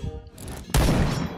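Gunshots in the shooter game Point Blank: a sharp, loud blast hits after a brief lead-in of lighter clicks and rattles, then rumbles on briefly, close and heavy.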